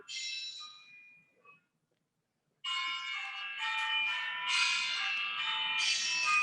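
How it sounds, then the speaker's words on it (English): Bells chime the hour, bright ringing tones that fade into silence and then return as a sustained, layered peal of overlapping strikes, moderately loud and without talk. "the chiming of the bells, that's our hour."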